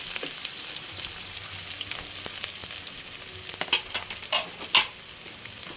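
Onions sauté in a hot pan while being prepared for burong isda, a soft continuous sizzle with a few louder stirring scrapes and splutters toward the end, close and clear with no talking.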